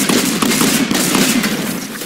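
Mech gunfire in the video game Fortnite is a loud, continuous rattle of rapid shots that fills the whole short stretch without a break.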